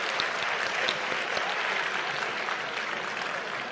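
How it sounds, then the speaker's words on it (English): A close, steady round of applause from an indoor audience at a distinguished alumni awards ceremony, even and continuous throughout. "Can we have one more round of applause for our distinguished alumni?"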